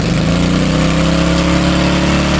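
A Craftsman gas snow blower engine with a carburetor problem and old fuel fires and runs loudly and roughly at close range for a couple of seconds, then cuts off abruptly.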